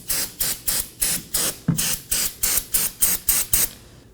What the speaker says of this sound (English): And spray it down using some brake cleaner.